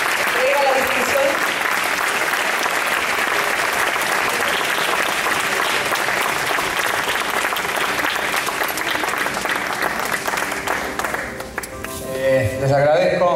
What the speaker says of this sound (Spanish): ¡Aplausos para la biblioteca!